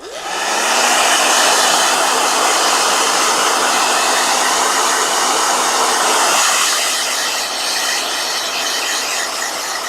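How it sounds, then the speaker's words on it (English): A blow dryer dries gouache paint, running as one loud continuous hiss and whir after a quick spin-up, with a slight shift in tone partway through. No one speaks. "I will blow dry this in the meanwhile. So, blow dryer"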